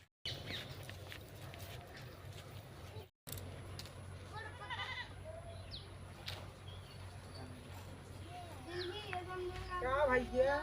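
Goats bleat a few times amid rural background noise, with a short cluster of wavering cries near the end, while people talk.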